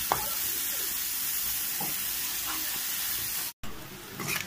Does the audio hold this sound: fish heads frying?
yes